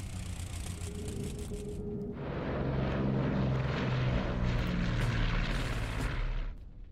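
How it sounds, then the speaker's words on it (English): Torpedo planes lifting off in the Order of Battle Coral Sea naval war game, a propeller engine drone that swells louder after a quieter start, holds steady, then drops away near the end, with no talk. "now we'll get those torpedo planes up."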